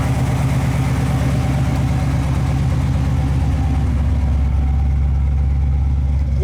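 A 1969 Camaro RS/Z28 tribute with pipes ending just behind the rear axle idles steadily, a deep, loud, even rumble with a constant throbbing pulse and no talk.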